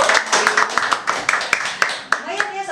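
Applause at a radio talk show for Sakabawana: a small audience claps in a quick, uneven patter of sharp hand claps, with talking mixed in underneath.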